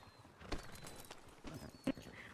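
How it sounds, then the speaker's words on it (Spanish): A horse's hooves clip-clop in a Red Dead roleplay video game, a few quiet, irregular hoof thuds spread across the moment amid faint game ambience. "Un caballo."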